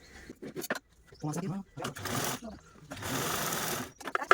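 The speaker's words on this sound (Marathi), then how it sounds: "आपण या राहिलेल्या तीन तीनच्या लाईन आहेत त्या स्टिच करून घेऊया" A sewing machine stitches lines of joined fabric strips made from leftover cloth, its motor whirring in bursts of varying length separated by short pauses, close and fairly loud.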